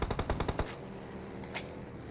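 Rapid burst of automatic gunfire in the BGMI battle royale game, finishing off a knocked enemy: a quick run of close, loud shots followed by a lone later shot.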